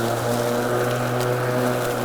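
A Greenworks 48V 41cm battery lawn mower running on a 4 Ah battery drives through very thick grass with clover and dandelions, its electric motor giving a loud, steady whine that holds without any drop.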